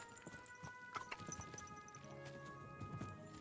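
Horse hooves clip-clop in the medieval video game Kingdom Come Deliverance II, a steady run of close hoofbeats layered over game ambience and music with a faint whinny.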